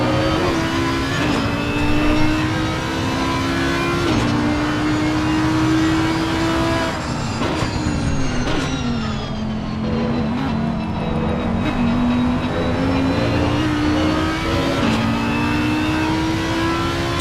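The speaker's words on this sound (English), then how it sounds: "Let's have a listen to that Audi actually." Audi GT race car in Assetto Corsa Competizione racing at Imola, engine droning steadily and loud with rising and falling pitch through gear changes, a continuous onboard roar throughout.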